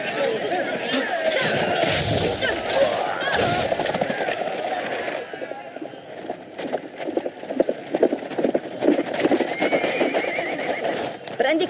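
A horse whinnies and its hooves clip-clop in an anime battle scene from Hokuto no Ken, with Italian dialogue running over and around the sounds throughout.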